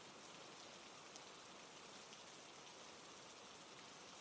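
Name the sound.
heavy rain falling on a roof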